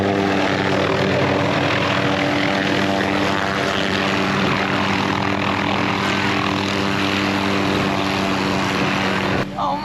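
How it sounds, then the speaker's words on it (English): A helicopter flies in over an outdoor RV campground, its steady, loud rotor and engine drone filling the scene and holding constant throughout before cutting off at the very end. "a helicopter just flew in to drop off Todd"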